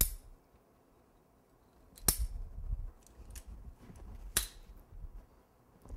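Pieces of a carved monster truck cake are being cut down, giving two sharp, close snipping cuts a couple of seconds apart against a quiet background.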